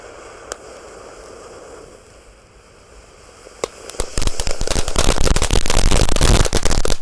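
Rapid crackling bursts of firecrackers going off in a hole in the ground close by, starting with a few isolated pops and building into a dense, loud continuous crackle.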